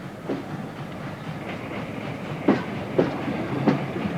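Steady train rumble on the Somerset and Dorset railway with periodic clickety-clack beats from wheels over rail joints, rhythmic and fairly close, no voices.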